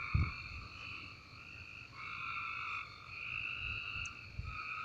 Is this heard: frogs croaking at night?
yes